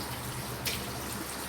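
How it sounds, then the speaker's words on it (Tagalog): Tap water runs steadily while dishes are washed in a sink, with one brief splash or clink of a dish near the middle, otherwise an even, unbroken stream. "maghuhugas na ako ng mga pinggan"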